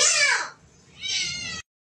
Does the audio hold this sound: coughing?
no